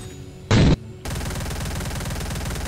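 A loaded light machine gun firing in a video game: one sharp, loud blast, a short lull, then a sustained, rapid burst of automatic fire that runs to the end.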